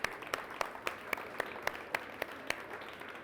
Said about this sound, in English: a round of applause for the Upstream team